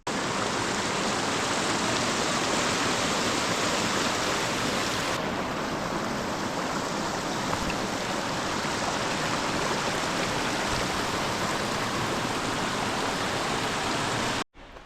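Guinea Brook flowing along the Appalachian Trail, a loud, constant broadband rush of close water with no voices, cutting off abruptly at the end.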